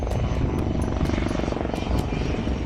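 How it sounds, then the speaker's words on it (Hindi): Military helicopter powered by two Shakti turboshaft engines, heard as a steady, loud rotor and engine roar with rhythmic blade thumping throughout, likely at an air show. "इसके इंजन्स की बात करें तो 2 शक्ति टर्बो शाफ्ट इंजन इस हेलीकॉप्टर में लगे हुए हैं।"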